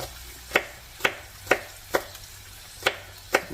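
A knife chops fresh green onion on a board with six crisp, separate strikes in an uneven rhythm. The cuts are close and clear against a quiet background.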